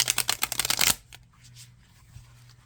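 Tarot cards shuffled by hand in a gentle back-and-forth overhand motion rather than a riffle, a quick run of crisp papery flicks that stops abruptly, leaving faint room quiet.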